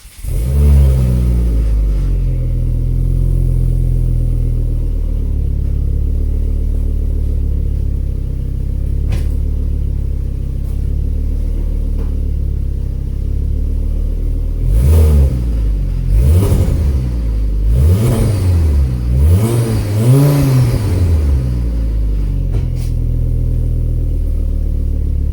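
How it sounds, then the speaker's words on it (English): A Ford Mondeo fitted with a turbo engine idles loud and close with a deep steady rumble, then is revved several times in quick rising and falling surges toward the end, with no voices. "Just started it, it's up and going."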